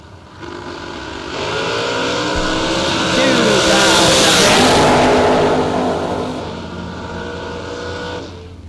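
Drag racing cars launch down the strip at a bracket racing event, a loud roaring engine surge that builds, peaks and then fades into the distance, with an announcer talking over it.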